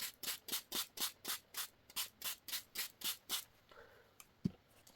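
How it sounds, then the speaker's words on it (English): A trigger spray bottle squirts water onto watercolour paper about a dozen times in a quick, steady rhythm of short hissing bursts, then a few quiet wet drips and a soft tap. "Maybe spray it a bit."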